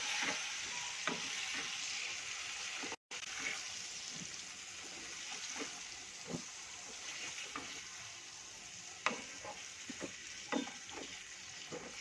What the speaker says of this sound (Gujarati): હવે એમાં ડુંગળી અને બટાકા જે આપણે કપરી કરી રાખ્યા હતા એ આમાં થોડું ચલાવી દઈશું